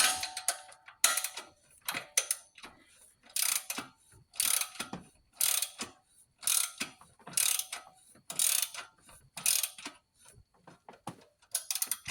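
Ratchet wrench tightening a bolt on a 2007 Cadillac Escalade during a power steering pump job, about a dozen close, crisp clicking bursts in a steady back-and-forth rhythm separated by short pauses.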